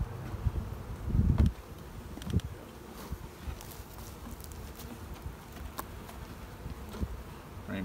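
Honey bees hum around an opened hive during a beginners' beekeeping class, a faint continuous buzz underneath occasional soft knocks and thumps as frames are handled nearby.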